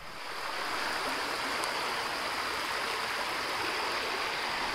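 The upper Pickerel River flows steadily on a canoe trip, a broad continuous rush of water that holds an even level throughout, close and unbroken, with no voices.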